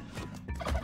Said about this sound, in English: Turkey there, so Yank's probably not gonna get his turkeys